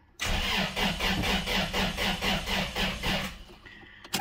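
A 2001 Toyota Tacoma's 3RZ engine cranks over on a weak battery, a loud, steady run of rhythmic starter pulses lasting about three seconds, then stopping without the engine catching, followed by faint clicks.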